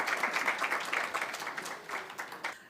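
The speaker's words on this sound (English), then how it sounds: "Another big round of applause, please, ladies and gentlemen" Audience applause at an international African languages conference, a fairly quiet and uneven patter of clapping with swelling bursts that thins toward the end.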